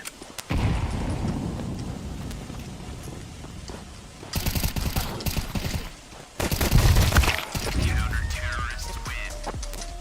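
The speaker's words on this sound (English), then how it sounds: "I'm throwing a grenade." A grenade explodes in a shooter video game, heavy rumbling blasts near the middle and again shortly after, set among ongoing gunfire and game noise, with a voice talking over it.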